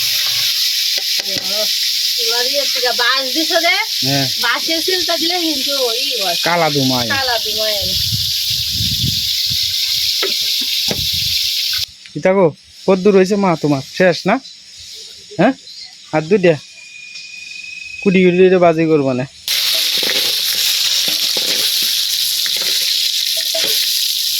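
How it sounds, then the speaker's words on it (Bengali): A cooking stove burning at high heat on a home kitchen, hissing and sizzling loudly and steadily throughout, with people talking over it nearby. "আজকে চুলা হিট প্রচুর আজকে চুলা আমি ধরাই দিচ্ছি"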